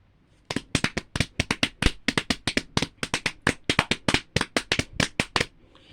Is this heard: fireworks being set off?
yes